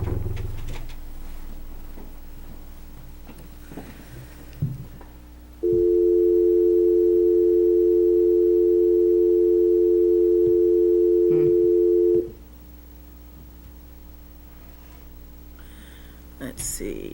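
A steady telephone dial tone sounds for about six seconds while someone calls into a municipal zoning board meeting held remotely in May 2020. It comes in abruptly and cuts off sharply, with faint room noise and brief murmurs around it.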